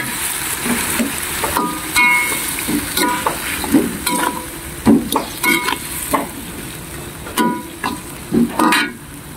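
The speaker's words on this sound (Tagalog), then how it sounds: "ilalagay na natin ngayon yung ating isdang prito" Pieces of fried fish going into a hot pan for home cooking, a loud continuous sizzle broken by repeated clinks and scrapes of a utensil against the pan, with no one speaking.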